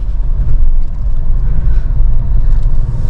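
A car moving slowly through city traffic gives a deep, steady rumble of engine and road noise, heard close from inside, with no voices.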